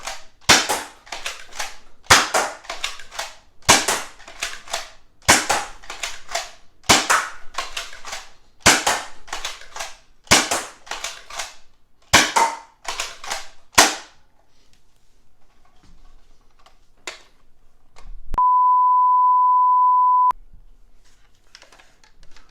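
An Adventure Force Aeon Pro toy blaster fires full-length foam darts from a full-dart magazine: about a dozen sharp, close pops in a steady rhythm, then near silence and a brief steady electronic beep.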